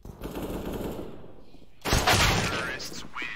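Rapid pistol fire in a Counter-Strike esports match, a dense burst of shots erupting after a stretch of game ambience, loud and continuous with faint commentary underneath.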